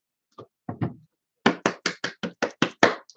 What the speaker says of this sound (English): let's all give Vern a big round of applause